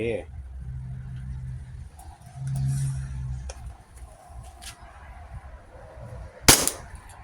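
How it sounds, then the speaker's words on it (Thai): A WE Glock 26 gas airsoft pistol fires in semi-auto: a couple of faint, sharp pops early on, then one loud, crisp crack near the end, over a low background rumble. "ทดสอบด้วยระบบเซมิก่อนนะครับเป็นจำนวน 3 นัดนะครับ"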